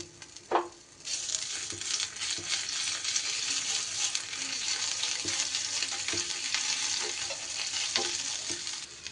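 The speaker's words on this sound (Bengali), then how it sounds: "এইবার এই তেলের মধ্যেই দিয়ে দেব আমি একটা তেজপাতা, আর দিয়ে দেব খুব সামান্য একটু জিরে ফোড়ন।" A bay leaf, cumin seeds and ginger paste drop into hot oil. After a single knock, a loud, steady sizzle bursts up and continues with occasional soft clinks of stirring.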